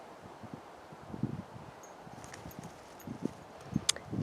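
A herd of horses walks outdoors, giving soft, irregular hoof clops mixed with rustling and light wind, faint and somewhat distant, with no talking.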